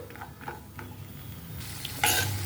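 A soft, steady sizzle of cashews frying in a pan with light stirring scrapes, then a sudden louder burst of crackling near the end.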